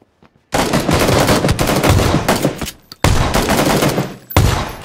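Sustained bursts of rapid automatic gunfire in a video game, loud and close, broken by short pauses between roughly three long volleys with no talking over them.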